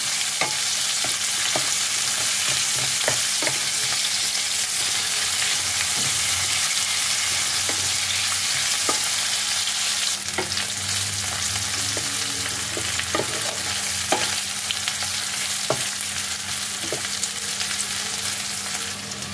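Sliced onions fry in a pan with a pinch of salt, producing a soft, steady sizzle under repeated sharp clicks and scrapes of a spatula stirring, somewhat louder in the middle stretch, with no voices.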